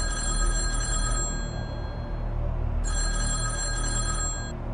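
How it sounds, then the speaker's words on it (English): A red telephone rings in the Kremlin, two bursts of an electronic bell about a second and a half long, separated by a pause, over a steady low rumble. "In the Kremlin, a red phone rings."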